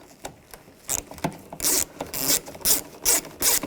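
A ratchet with a T25 socket loosens a screw on the rear exterior door handle of a 2014-2018 GMC Sierra 1500, giving a series of short, close, rasping clicks in quick uneven bursts.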